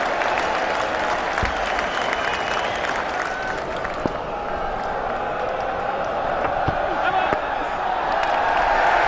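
A cricket crowd at the Oval applauds during the 2007 England vs India Test, a dense, continuous roar of clapping and cheering from a large stadium audience that holds steady for around nine seconds.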